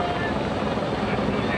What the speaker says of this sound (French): 14h33 et l'hélicoptère qui emporte Senna